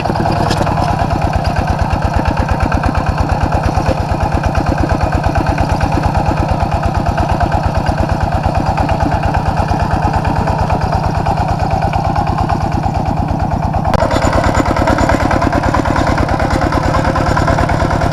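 A tractor engine runs steadily while plowing furrows for planting cucumbers in a rainy-season field, a constant loud mechanical throb with a steady low pulse that continues throughout, with a slight shift in tone near the end.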